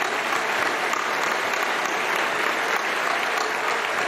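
An audience applauds a Pakistani karate and boxing champion being sent off stage, thick continuous clapping at a steady level from start to finish, loud and unbroken.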